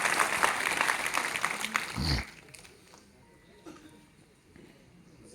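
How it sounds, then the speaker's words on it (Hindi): An audience at a meeting claps for about two seconds, fairly loud at first, then stops abruptly, leaving faint background noise with a speaker's voice continuing. "तालियां बजा रही है"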